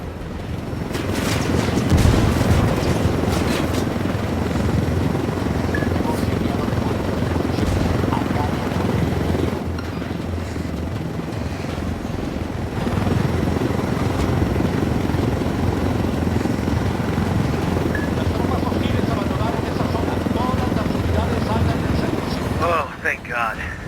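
A helicopter flies in the video game Ghost Recon: Wildlands, its rotor roar loud and continuous with bursts of gunfire. Voices talk over the engine noise throughout.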